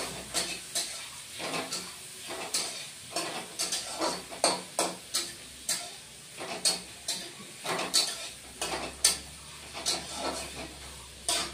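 Chopped onion and crushed garlic sizzle and hiss in a hot pan while being stirred for a rohu fish curry, with repeated scraping strokes of a spatula and clinks against the pan throughout.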